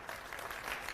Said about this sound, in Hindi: एक बार जोरदार तालियां अपने